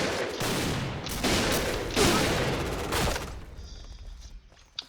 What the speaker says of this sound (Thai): น่าจะยิงรัวได้กว่านี้นะสเปซ